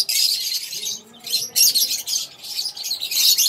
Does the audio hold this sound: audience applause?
no